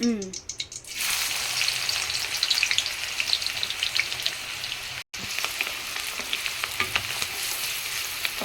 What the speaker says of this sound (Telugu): కొంచెం నెయ్యి కూడా వేసుకుందామమ్మ. ఓకే అత్తమ్మ. ఇప్పుడు ఆనియన్ వేసుకుందామమ్మ.